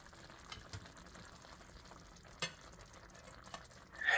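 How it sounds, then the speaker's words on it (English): Worcestershire and soy sauce gravy stirred as it boils, quiet sparse scrapes and soft bubbling with a few brief utensil knocks and a louder burst at the end. "Bring to a boil, stirring often until gravy thickens."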